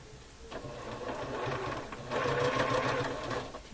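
A sewing machine stitches quilt block pieces together, a quiet rapid mechanical whir with a steady rhythmic needle pulse that picks up speed midway, close and alone.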